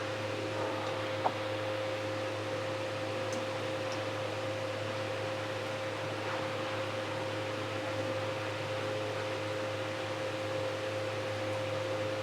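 Paruppu masala vadai, tea-stall-style lentil fritters, deep-fry in hot oil. A steady, even sizzle hisses continuously over a low hum, with no talking.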